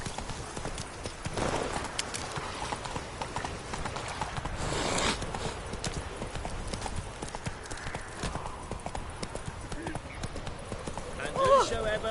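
Roach, a horse in a video game, clip-clops along with steady hoofbeats at a moderate distance. Game voices talk over the hooves throughout.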